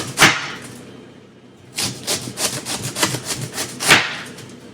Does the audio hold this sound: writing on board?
no